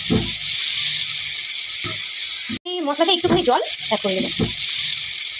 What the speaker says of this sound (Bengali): মশলা, এই মশলাতে একটুখানি জল অ্যাড করে নেবো।